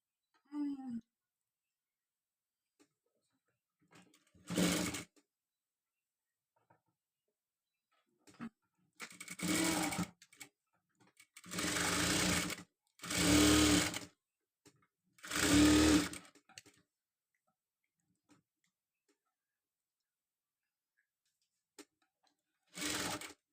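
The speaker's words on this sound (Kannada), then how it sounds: "ಇನ್ನು ಇಲ್ಲಿ ಬೆನ್ನಲ್ಲಿ ಒಂದು ಸ್ಟಿಚ್ ಹಾಕ್ತೀನಿ" A sewing machine stitches the back of a simple designer blouse in several separate runs of one to two seconds, close and clear, with quiet pauses between bursts and a brief final whirr.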